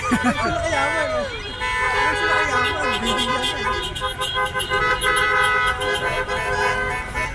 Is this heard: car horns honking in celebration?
yes